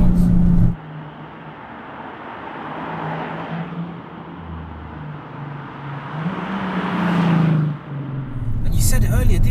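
A 535 bhp VW Golf R32 running a bigger turbo pulls hard from inside the cabin, its engine droning and rising in pitch through two gears with a brief dip between, while people talk over it.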